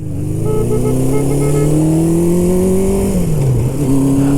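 A 1974 Honda CB750 engine pulls steadily under load while riding, a loud continuous drone with rising harmonics and a brief dip in pitch before climbing again, with wind noise mixed in.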